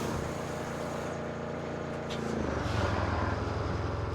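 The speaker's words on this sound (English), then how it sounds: "How's the engine sounds," A heavy off-road truck engine in the RoadCraft video game drones steadily, a loud, continuous low rumble with a deeper throaty rise partway through, playing alone without talk.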